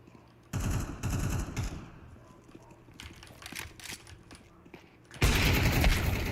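Gunfire and a grenade blast in a shooter video game: loud rapid bursts of shots, a quieter stretch of scattered crackling shots, then a sustained roar of fire at the end.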